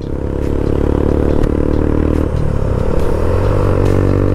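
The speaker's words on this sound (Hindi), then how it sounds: "जो इसका एग्जॉस्ट लाउड था ना भाई, अल्टीमेट मैन।" A loud non-ABS motorcycle with a loud exhaust revving steadily, its engine drone continuous and close, with rattling and scraping clatter mixed in.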